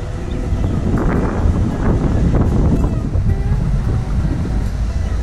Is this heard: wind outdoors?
yes